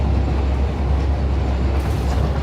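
A train running along a rail line in the factory-building game Satisfactory, giving a steady, continuous low rumble with a constant wash of rolling noise that holds even throughout.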